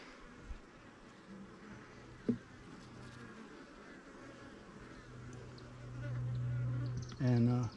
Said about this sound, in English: Kind of thick bees in the lower corner there